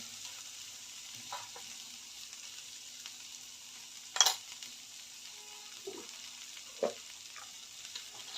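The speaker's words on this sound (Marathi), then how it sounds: "गवारी पण यामध्ये आपण चांगलं परतून घेतलेलं आहे कांदा टोमॅटो लसूण" Guar beans are sautéed with onion, tomato and garlic in a pan, giving a soft steady sizzle with a few brief stirring clatters, one louder scrape near the middle. No one talks.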